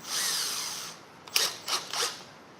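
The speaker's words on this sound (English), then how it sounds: "We're gonna start drilling." A power drill whirs for about a second, then gives three short bursts while drilling into a Chevy truck cab corner, fairly close and moderately loud.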